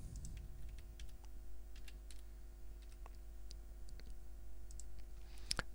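Typing on a computer keyboard: scattered, quiet key clicks in an irregular rhythm over a low steady hum, with a couple of sharper taps near the end.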